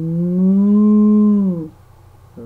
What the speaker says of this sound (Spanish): Oh, una vaca dice